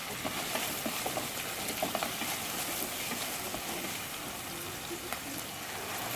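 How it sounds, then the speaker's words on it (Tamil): Chopped onion and green chili sautéing in oil in a pan for a Tamil brinjal curry, a steady soft sizzle and crackle close by throughout, fairly quiet, no talking. "அதை நல்லா வதக்கி விட்டுக்கலாம்."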